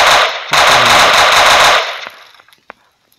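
A Modern Warfare 2 gun in a Minecraft PE mod fires a loud, dense burst of rapid automatic shots, briefly breaking off and then resuming, before ending in a few scattered clicks and a sharp tail.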